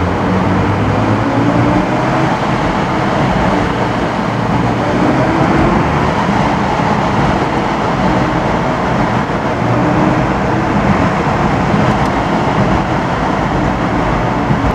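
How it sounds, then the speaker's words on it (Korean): BMW i4 eDrive40 electric sedan driving with a window open, a loud continuous broadband roar of road and wind noise with a faint synthetic drive tone blended in, steady throughout and without talk. "이게 가상 사운드지만 아무래도 나중에 전기차 시대에는 이렇게 소리가 커질 거다라는 의미를 잘 알려주고 있는 셈이죠"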